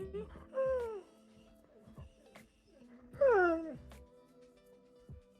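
Large dog giving two drawn-out grumbling, moaning vocalizations, close and fairly quiet, the second one louder, indoors with a few soft knocks between them.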